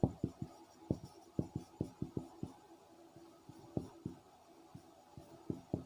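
Numbers are written by hand on paper for a maths problem, making a string of crisp, close pen taps and short strokes in an uneven rhythm with brief pauses between them.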